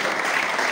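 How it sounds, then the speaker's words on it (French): A live audience claps steadily for a film's producers at a cinema screening event, a dense, continuous wash of hands filling the whole moment. "Est-ce qu'on peut applaudir pour les producteurs?"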